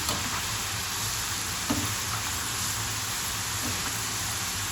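Steady, soft sizzling of pumpkin slices frying in oil, a continuous crackle with occasional faint pops, close by and without talk.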